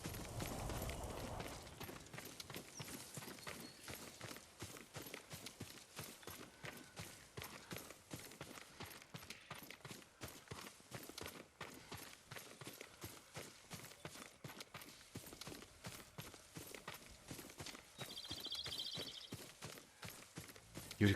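Yuriko's horse gallops with fast, steady, rhythmic hoofbeats that continue for over twenty seconds in Ghost of Tsushima. The clip-clop stays moderately close and quiet.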